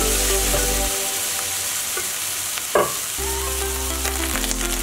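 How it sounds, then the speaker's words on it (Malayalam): Onion, shallots and ginger-garlic paste sautéing in a pan for a Kerala fish curry, a steady close sizzle with stirring scrapes and a low hum in the background. "ജിഞ്ചർ ഗാർലിക് പേസ്റ്റ് ഒക്കെ അത് ചേർത്ത് ഒരു മിനിറ്റ് നേരം വഴറ്റിയെടുക്കുക"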